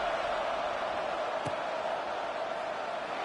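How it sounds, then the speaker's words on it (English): Football stadium crowd buzzing after a score at a Michigan versus Georgia game, a steady broad roar from a large distant crowd running throughout with one brief sharp knock partway through. "this crowd is buzzing after that last score"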